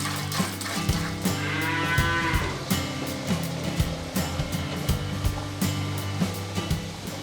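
Dairy cows moo at a dairy farm on the edge of Jakarta, several drawn-out calls overlapping at close range, with scattered clanks and knocks around them and no talk.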